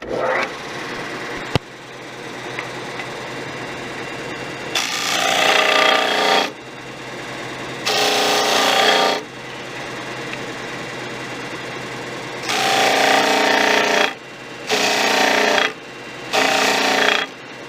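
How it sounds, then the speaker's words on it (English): A disc sander grinds against wood in several loud bursts of raspy friction, separated by quieter pauses with a faint motor hum. "I'm going to use a disc sander."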